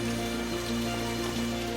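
Continuous rain falls with occasional gusts of storm, a dense steady wash of patter at close range with no voices.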